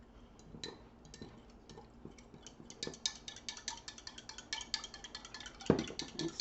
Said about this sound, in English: Just take you a fork here and just mix it in really good